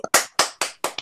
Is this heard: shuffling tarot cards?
no